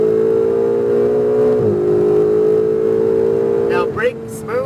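Ferrari 488 GTB under full throttle on a race track, engine drone holding steady and loud throughout, with a brief shift dip midway and another near the end as the tone drops, under an instructor's voice.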